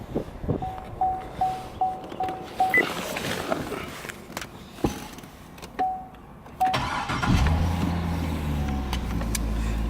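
A 2005 C6 Corvette with an LS2 V8 cranks and fires up after a series of short chimes and clicks, settling into a loud, steady idle rumble close by.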